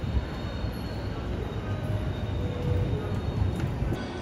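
A private railway train at Ikebukuro station in Tokyo rumbles steadily nearby, a continuous low roar of wheels and carriages with faint metallic squeals and no voices.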